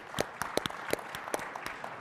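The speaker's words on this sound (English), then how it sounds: "Can we have a round of applause for RK Auto Group?" Scattered clapping from a conference audience at the Digital Dealer 2023 keynote, a handful of sharp, separate claps over about two seconds rather than a full ovation, with faint room noise underneath.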